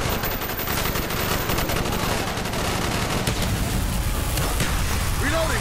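Sustained automatic gunfire and scattered shots rattle through a street battle in Call of Duty, loud and continuous, with game dialogue and effects mixed in.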